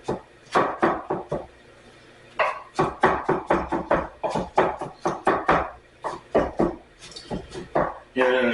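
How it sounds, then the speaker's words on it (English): A kitchen knife chopping zucchini, tomato, pepper and eggplant flesh on a board, rapid rhythmic bursts of sharp knocks in several runs separated by brief pauses, close and clear. "chop it"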